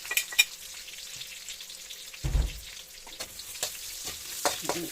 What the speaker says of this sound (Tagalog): Pwede na natin ihulog si onion.